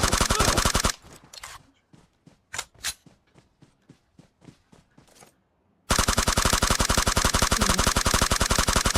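Gunfire in the mobile game PUBG Mobile: dense, rapid automatic bursts open and close the clip. In between comes a quieter stretch of scattered single shots and clicks.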